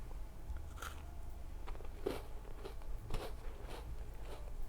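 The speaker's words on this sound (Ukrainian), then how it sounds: "Печиво дуже хрумке, смачне, пісочне." Crunchy shortbread cookie with blackcurrant jam bitten and chewed close up, several quiet, crisp crunches spread out over a few seconds against a low background hum, with no talking.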